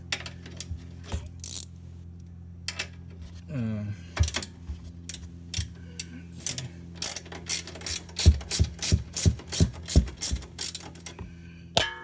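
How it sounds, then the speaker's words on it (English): A wrench clacks and ratchets right up against the camera while an end link is taken off an ND Miata sway bar, giving sharp close clicks that grow into a quick regular run of ticks, with a voice briefly heard. "The wrench hitting the camera."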